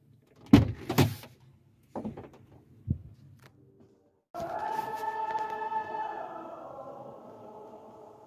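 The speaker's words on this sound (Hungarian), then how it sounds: "És most kinyitom az ajtót" A few knocks and thuds of handling, then a door opening and letting in steady outdoor sound with singing, loud and sustained after the door swings open.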